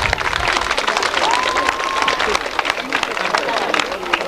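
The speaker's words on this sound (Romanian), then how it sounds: "Aplauze pentru clasa 8-a!" A school hall crowd applauds an eighth-grade class at a graduation ceremony, with dense, steady clapping close by, a brief whistle, and murmuring voices in the background.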